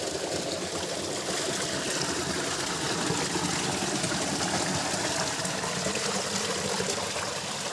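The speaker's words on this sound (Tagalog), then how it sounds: "Meron pang mga bagsakan ng tubig dito sa taas." A small waterfall pours into a stream, a steady dense rushing and splashing that stays even and close throughout with no voices.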